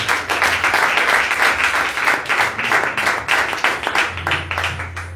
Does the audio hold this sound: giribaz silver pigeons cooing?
no